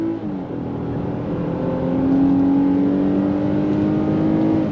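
A 2024 Nissan Pathfinder all-wheel-drive midsize SUV is driven hard through a corner, its engine holding a steady drone that rises slightly in pitch as it pulls through, heard from inside the cabin, loud and continuous with no speech.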